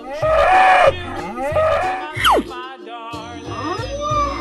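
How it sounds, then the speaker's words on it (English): A cow lowing in a series of loud, close moos, several drawn-out calls with brief pauses between them, mixed with cartoonish sound effects. "Cow."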